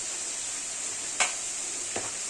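Dried fish (shutki) frying in a pan gives a steady, even hiss of sizzling oil, broken twice by brief scraping clinks of a utensil stirring against the pan.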